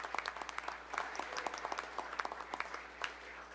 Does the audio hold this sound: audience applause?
yes